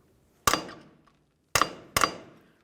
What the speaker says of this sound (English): We're going to go ahead and drive this axle out of the bearing a little bit to break it free.